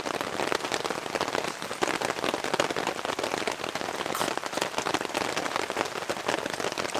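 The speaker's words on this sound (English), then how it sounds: "Cheers guys, rain's picked up." Heavier rain pours down on a campsite during a solo overnight camp, a dense, continuous, crackling hiss of drops close by, steady and loud with no voices.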